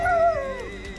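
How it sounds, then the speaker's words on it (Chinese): A dog by a lake in Cromwell, New Zealand, gives a single close, drawn-out howl that slides downward in pitch and fades over about a second. "湖边会唱歌的狗狗这会儿刚开始营业啊"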